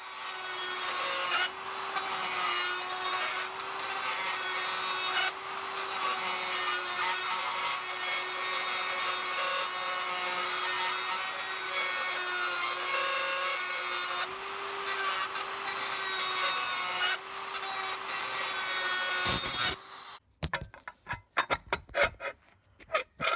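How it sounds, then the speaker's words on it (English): An angle grinder works on 212cc Predator kettcar axle parts, a loud continuous whining grind sustained for about twenty seconds before stopping, followed by scattered clanks and knocks. "I will be going at it with the grinder"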